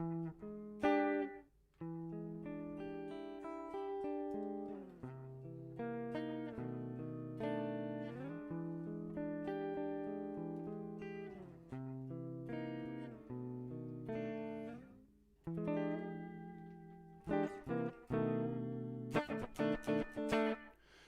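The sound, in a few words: vintage slapback echo effect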